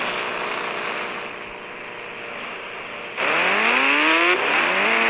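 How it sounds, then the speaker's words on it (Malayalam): Motorbike engine in the video game GTA 4, a steady drone for about three seconds that then revs up loudly with rising harmonic pitch, dips briefly and climbs again, no voices present. "ഞാൻ ഈ ബൈക്ക് എടുത്തിട്ടാണ് പോകുന്നത്."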